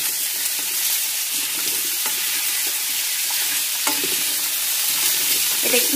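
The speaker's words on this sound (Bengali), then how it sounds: "বিট, আর আলু দিয়ে এটাকে ভালোভাবে নাড়তে হবে।" Beetroot, carrot and potato being stirred and fried in a pan, a loud steady sizzle broken by repeated scraping strokes of a spatula, close up with no talking.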